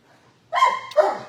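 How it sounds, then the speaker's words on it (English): A medium-to-large brindle pit bull mix at a shelter gives two short, close, sharp barks in quick succession against otherwise quiet surroundings. "Rusty, what you barking for?"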